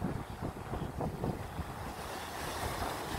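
Ocean water surging and receding at Black Hole in Denmark, Western Australia, a faint broad wash of waves mixed with buffeting wind noise on the microphone.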